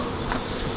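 Honey bees hum around the entrance of a beehive, a close, continuous buzzing drone with small swells as individual insects pass near.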